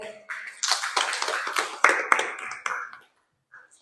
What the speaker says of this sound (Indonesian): tepuk tangan dulu dong untuk Pak Yosef.